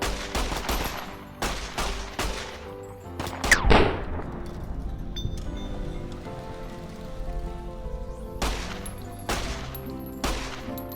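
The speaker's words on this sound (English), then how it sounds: "Oh, yeah, I'm in a gunfight." Gunfire from a gunfight in Fallout: New Vegas comes in bursts of rapid shots, clustered at the start and again near the end, with game ambience and shimmering tones in the quieter middle.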